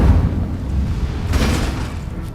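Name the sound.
Incendio fire spell blast from a wizard video game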